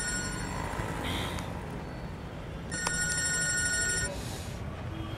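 A telephone rings in a Hindi comedy film scene. A tonal ring sounds once for about a second midway through, over a busy background with voices talking.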